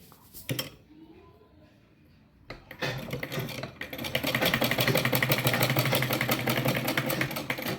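A sewing machine runs while blouse fabric is stitched, starting in short bursts and then whirring steadily with a fast, even mechanical rattle close by.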